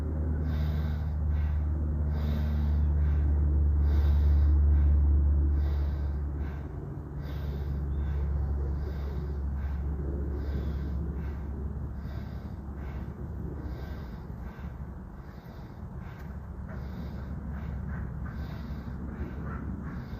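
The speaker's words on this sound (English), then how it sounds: "keep that breath of fire going" Breath of fire, a rapid rhythmic breathing exercise: quick, even, forceful exhales repeat steadily and close up for about twenty seconds, a continuous pulsing train of puffs with no talk.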